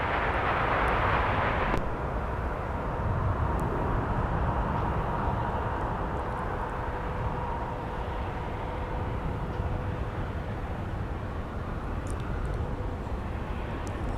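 An airliner arriving at Minneapolis–St. Paul airport, a loud, steady broadband engine roar filling the whole stretch, with a brief brighter whine at the start and a faint tone holding underneath.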